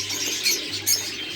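A female pet bird, kept with other cage birds, gives faint, quick chirps, with two brief brighter bursts over a steady background hum.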